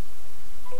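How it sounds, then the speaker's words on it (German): Telephone keypad tones sound as a short, loud burst of dialing with no one speaking. "Und das ist das Telefon."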